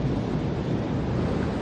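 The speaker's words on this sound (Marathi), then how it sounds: "कसा लाटा येतं बघा गाईज" Sea waves wash onto a sandy shore in a steady rushing surge, heard close and continuous with some wind noise over the microphone.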